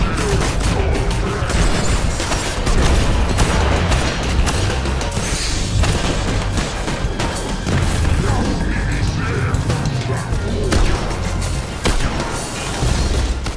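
Enemy gunfire in the video game Destiny: sustained loud volleys, booms and impacts with constant crackling shots that fill the whole stretch of about fourteen seconds.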